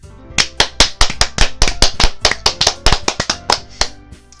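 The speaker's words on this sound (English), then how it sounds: "I'm the first to start applauding." A burst of hand clapping in a video game scene, sharp distinct claps in a quick uneven rhythm, close and loud, as if one or a few people are applauding.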